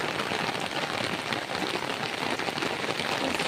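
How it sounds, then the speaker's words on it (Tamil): Heavy rain pours steadily onto a street already streaming with runoff, a dense, constant broadband hiss with fine crackling drops, loud and close throughout, no voices heard. "பயங்கரமான மழை"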